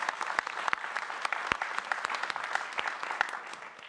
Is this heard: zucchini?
no